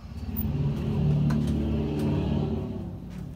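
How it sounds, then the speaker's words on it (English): A loud truck engine rumbles past, rising and then fading, with a deep throaty drone and no talking. "Damn rednecks and their loud trucks."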